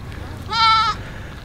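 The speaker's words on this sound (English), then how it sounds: "Check out this little goat here." A small goat in Vietnam lets out a single clear, nasal bleat lasting about half a second, close and fairly loud over quiet outdoor background noise.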